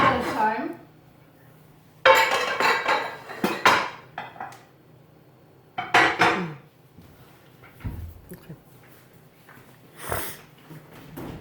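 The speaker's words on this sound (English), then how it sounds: "Now I'm going to grab my 9x13 pan." Metal 9x13 baking pan clattering and clinking in a home kitchen while making brownies, several bursts of dish-like rattles with quiet gaps between, close and fairly loud.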